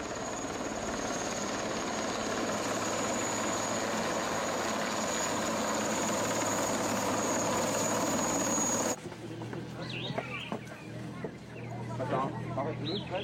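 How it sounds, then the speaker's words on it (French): A Puma helicopter of the Gabonese Republican Guard thunders with a loud, steady rotor and turbine drone for about nine seconds, then the sound cuts to a quieter outdoor scene. Someone narrates over the engine noise. "l'hélicoptère Puma de la garde républicaine gabonaise quitte sa base de Libreville"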